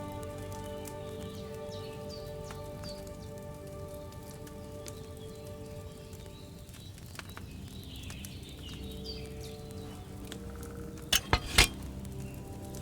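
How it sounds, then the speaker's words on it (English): A potion cauldron boiling over a flame in the video game Kingdom Come: Deliverance II gives a soft, steady patter of small bubbles under sustained background music, ending with a few sharp clinks. "Hear that bubbling? It's boiling."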